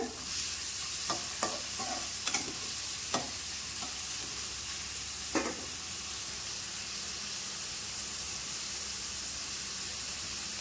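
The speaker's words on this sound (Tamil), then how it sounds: "எண்ணெய் ஊற்றிட்டு வெங்காயம் போட்டுக்கோங்க வெங்காயம் போட்டு வதக்குங்க" Onions sautéing in hot oil in a pan for Tamil-style egg rice, a steady soft sizzle with several sharp clinks of a spoon stirring against the pan, close and continuous, no talking.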